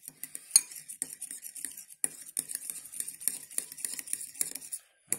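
A spoon mixing garlic into remoulade sauce in a bowl, with quick, close clinks and scrapes of utensil against dish in an uneven stirring rhythm, briefly pausing before it resumes.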